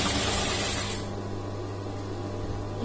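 A sewing machine stitches the lining of a blouse, giving off a steady, close mechanical whir that is slightly louder for the first second and then runs on evenly, with no talking.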